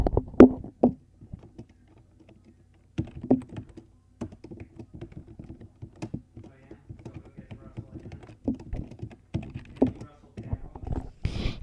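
Keys clatter on a computer keyboard in irregular close bursts of clicks and taps, with quieter stretches between and faint talk in the background.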